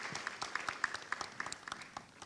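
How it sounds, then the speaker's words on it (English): A roomful of people at an Asia Pacific air transport forum applauds the panelists in one brief, dense burst of clapping that holds steady for about two seconds, then begins to thin out. "can we give another round of applause for the panelists here for all?"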